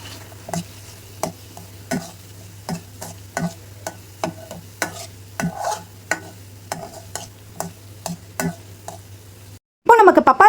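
Spoon stirring papaya halwa with powdered cashews in a pan, a steady run of soft scraping strokes over a low constant hum and gentle sizzle, ending in a brief louder clatter.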